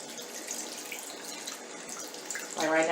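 Cool-to-warm water runs from a tap while a makeup brush is rinsed, a soft continuous splashing stream that swells louder near the end, with no talking.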